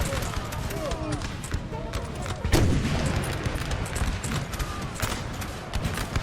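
Musket volleys ring out repeatedly from massed troops in the Napoleonic Total War 3 video game, with sharp cracks scattered throughout, one heavy booming blast near the middle, and someone talking over the battle noise.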